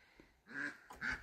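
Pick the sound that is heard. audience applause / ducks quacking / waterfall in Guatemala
ducks quacking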